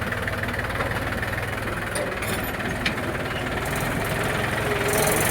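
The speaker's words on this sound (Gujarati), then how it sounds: "હવે ટ્રેક્ટર સ્પીડ પકડી રહ્યું છે" A tractor engine runs with a steady, low, chugging rumble on a rural track beside a dry pond under construction. It holds constant throughout and swells slightly near the end.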